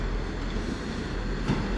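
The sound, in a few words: South Western Railway train from London Waterloo arriving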